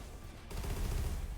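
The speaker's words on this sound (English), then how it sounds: "cannons shooting at us." Cannon fire in the roguelike game Reignbreaker, a dense burst of booming shots that starts about halfway through and keeps pounding close and loud to the end, with no talk over it.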